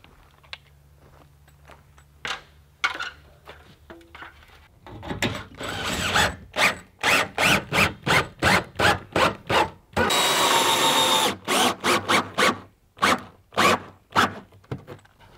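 Simpson Strong-Tie structural hex-head screws driven through a panel on an A-frame micro house, heard as a rapid series of close, loud ratcheting bursts from the driver, with one longer continuous run in the middle.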